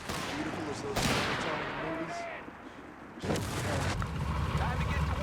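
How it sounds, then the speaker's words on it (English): Artillery shells exploding in the battlefield strategy game Company of Heroes 3, with heavy booming impacts and crackling debris in bursts, a sharp blast near the start and another near the end, over constant battle noise and faint voices. "Fresh whiz-bang hitting the field."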